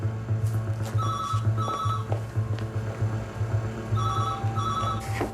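A telephone in an office rings in repeated double bursts of trilling bell tone over a steady background hum, with no talk during the ringing.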